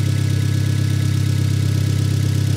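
A loud, steady turbocharged car engine idles up close, its low rumble pulsing evenly with no other sounds.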